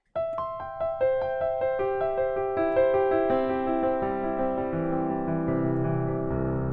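Rapid piano notes run quickly up the keyboard, each one left ringing with the sustain pedal so they blur together into a sustained wash of sound.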